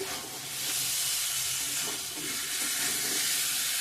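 Elephant foot yam curry with fish sautéing in oil in a pan, giving a steady, close sizzle and hiss that runs without a break throughout, with faint stirring scrapes and no voices.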